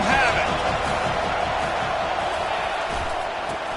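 A packed stadium crowd in a college football video game roars in a dense, sustained wall of noise, loud and steady with a slight fade, under a commentator's voice.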